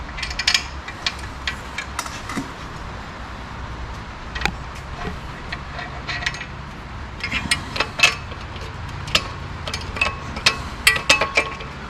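Grade 8 bolts for a clutch and pressure plate install clink and rattle as they are handled, with scattered metallic ticks and small clunks across the span and no talking.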